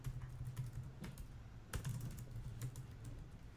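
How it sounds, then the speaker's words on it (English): Quick, uneven keystrokes clatter on a computer keyboard, with a short flurry of louder key hits midway, all fairly quiet and close, with no talk over them. "Oh my God, I can't type today, guys"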